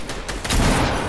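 Burst of Fortnite gunfire in a Team Rumble match, a dense rattling volley of shots lasting about a second, loud and close with no talking over it.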